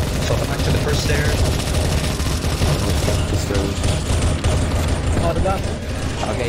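Rapid CS:GO gunfire, bursts of automatic shots crackling densely throughout, with team chatter talking over the shooting.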